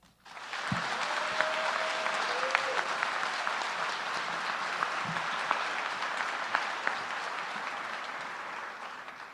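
An audience at a high school signing ceremony for student athletes applauds in a sustained, dense burst for over nine seconds, with a few sharper individual claps standing out and faint cheering underneath.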